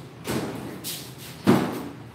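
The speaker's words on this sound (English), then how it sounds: "I think we'll close some doors." Doors being shut indoors: two muffled, close thuds about a second apart against a quiet room background, with no speech.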